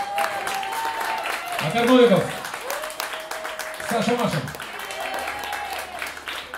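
Audience at a jazz concert applauding steadily under a voice announcing names on stage, the clapping swelling in two brief louder peaks.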